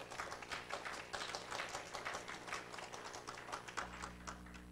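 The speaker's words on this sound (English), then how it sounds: "Give him a round of applause." Audience applause at a prison re-entry talk, a faint, dense patter of many hands clapping steadily over a low hum for several seconds.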